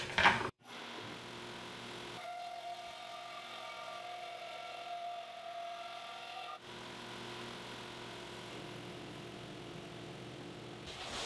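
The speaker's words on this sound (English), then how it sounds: "So I'm cutting one board, 20 inches per minute, forward speed" An automated Accu-Slice resaw slowly feeds a thin board at 20 inches per minute, giving a steady mid-level motor and blade whine with tonal bands, starting after a brief knock and dipping once partway through.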